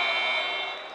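A loud quarter-end buzzer sounds in a boys' high school basketball gym, one sustained harsh electronic tone lasting the full second and fading slightly at the end.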